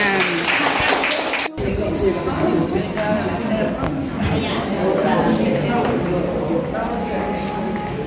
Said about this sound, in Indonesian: Mari kita semangati, tepuk tangan.